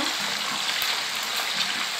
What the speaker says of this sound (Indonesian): Kita siram-siram sini biar merata ininya, minyaknya,